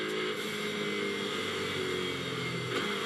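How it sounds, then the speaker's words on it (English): GT2 race cars at Hockenheim during a Fanatec GT2 Europe race accelerate toward a restart, their engines roaring loud and continuous over a broad rumble with no speech. "So Leroy down towards the Sachs curve, and as the cars accelerate now up to the resumption of the race, Philippe Pret is oh so nearly with them."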